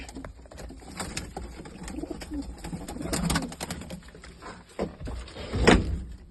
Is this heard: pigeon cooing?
yes